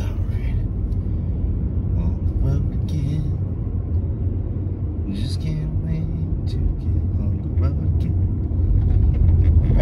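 A car drives along a road toward a shooting range, its low continuous engine rumble and road noise steady throughout, with a voice talking intermittently over it.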